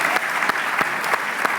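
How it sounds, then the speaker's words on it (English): An audience at a church leadership Q&A session claps in steady, dense applause, moderately loud and filling the room with no speech over it. "Please give Jesus a round of applause."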